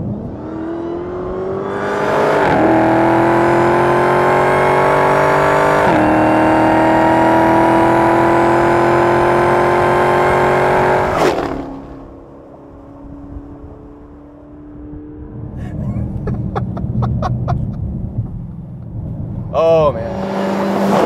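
A 2015 Dodge Challenger SRT Hellcat with its 707-horsepower engine accelerates hard, a loud rising roar climbing through two gear changes, then easing off to a lower rumble with cabin talk over it.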